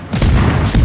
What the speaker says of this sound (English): we got to turn broadside and unload every single torpedo I have